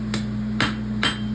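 A hammer strikes a pony roadster horseshoe on an anvil to draw it out: three sharp metallic blows about half a second apart, close and ringing, over a steady low hum in a farrier's workspace.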